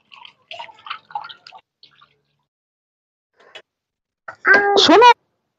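Cut desi jeol fish are rinsed in water, with sparse small splashes and drips early on, a quiet gap, then a brief louder burst with a squeaky, tonal edge at the end.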